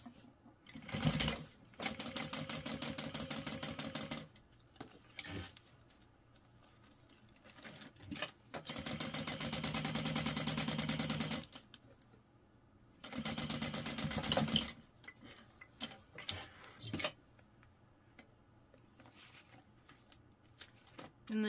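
A sewing machine stitches the seam of a fabric beach pouch in three loud, steady bursts of rapid needle chatter, separated by quieter handling and fabric shuffling, with no talking.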